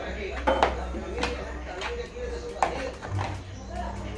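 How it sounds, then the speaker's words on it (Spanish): Stirring a salad of tuna, vegetables, ham and mayonnaise in a bowl: a few close clinks and scrapes of a spoon against the bowl, spaced irregularly beneath a steady low hum and some talk. "Y se revuelve bien para que vaya bien disuelto todo."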